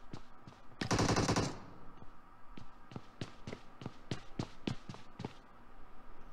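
AKM rifle fire in PUBG Mobile: a dense full-auto burst at close range, then a string of single, evenly spaced loud shots ringing out over game ambience.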